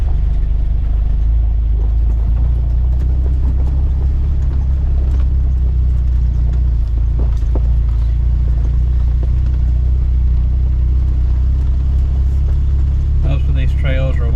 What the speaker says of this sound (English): I've got it in first gear right now and just letting it crawl.